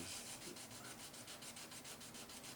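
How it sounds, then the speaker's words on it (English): A thinned steel scraper blade is drawn over wood during restoration of a 1980s Japanese Tokai, producing a soft, steady rhythmic rasping with regular strokes about every tenth of a second, close and faint. "All we're trying to do is make that blade a little thin so it'll scrape good."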